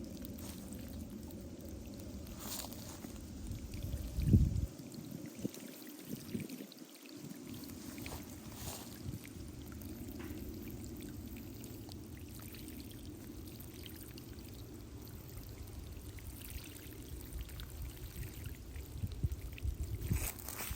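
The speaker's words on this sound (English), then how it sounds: "we'll give it a little drink of water" Water pours steadily onto the soil around a newly planted tree, a continuous soft gush and trickle outdoors. A brief louder splash comes early, then the flow runs on evenly at moderate volume with no talking.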